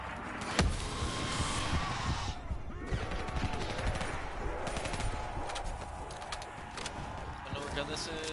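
Gorgon gun fired in Black Ops, a loud, close burst of rapid automatic gunfire with sharp individual cracks, continuing through most of the stretch amid other game effects.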